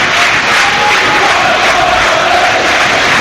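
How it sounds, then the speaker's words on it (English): A home football crowd at Home Park roars and chants during Plymouth Argyle against Southampton, a loud continuous wall of massed voices urging the team on, with no distinct speech. "And you can hear the home crowd"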